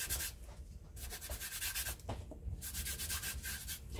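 Continuous scraping and rubbing of waxes being blended together by hand, a close, soft, rhythmic gritty friction with short pauses, no voices.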